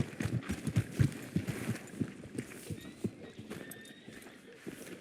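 In the Red Dead Redemption 2 video game, a horse's hooves clop in a quick uneven rhythm, then more softly, with a neigh amid the steps, close and fairly quiet.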